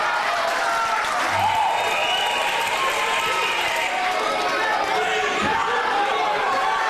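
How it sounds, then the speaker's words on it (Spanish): Crowd at a lucha libre wrestling show bursts into sustained applause and cheering, dense and continuous, with chatter and an announcer's voice mixed in near the arena floor. "Un aplauso para Biónico."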